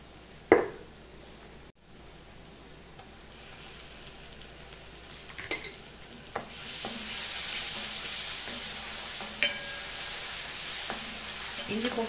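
Ginger garlic paste fries in a pan with sautéed onions, giving a continuous close sizzle that grows louder partway through. Occasional clinks of stirring cut in, and there is no talk.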